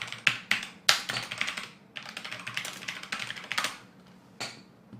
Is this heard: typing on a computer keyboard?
yes